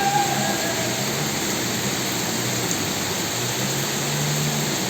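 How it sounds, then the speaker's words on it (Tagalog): Heavy rain pours steadily during street flooding on Mabini Street, a continuous broadband roar with an engine-like hum beneath it and no voices. "Ang lakas ulan"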